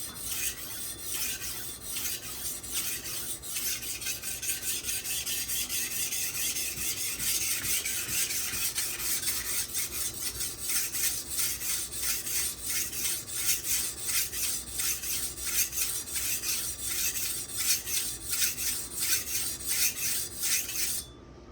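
A blade scrapes back and forth across a whetstone in steady, rhythmic gritty strokes, close and continuous, with no talking.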